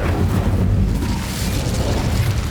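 The Incendio fire spell is cast in Hogwarts Legacy, giving a loud, sustained whooshing roar of flame with a heavy low rumble that fills the whole moment without a break.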